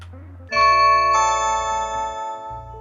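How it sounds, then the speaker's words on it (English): A Blink video doorbell chime rings out clearly and sustains with ringing tones that slowly fade, heard close with no talking. "So I'm going to press the doorbell."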